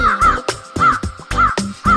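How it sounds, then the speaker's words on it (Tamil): Repeated crow caws ring out in a steady rhythm, several short harsh calls spaced over bouncy music. "காக்கா காகமே ஆட்டம் ஒன்று போடு நீ"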